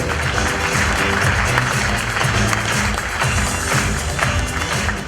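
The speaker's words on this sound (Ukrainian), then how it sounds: "Аплодисменти Олександру" Dense, continuous clapping from an audience at a 2024 graduation ceremony, loud and sustained without pause.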